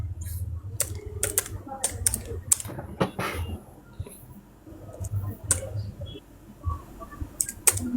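Keys clatter on a computer keyboard as a search is typed into Google, in bursts of quick clicks with short pauses, close and fairly quiet, over a low background hum.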